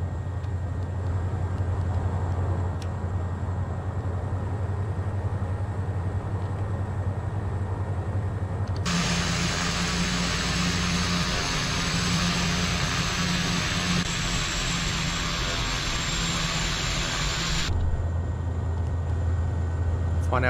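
Pilatus PC-12 turboprop engine in a Prepar3D/FSX flight simulator runs up from a low drone to a louder, brighter roar for several seconds, then settles back to a lower hum.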